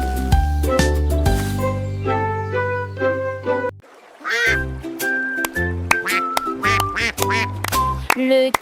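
Rapid duck quacks in bouncy, rhythmic bursts with an almost musical, tonal quality, pausing briefly before resuming.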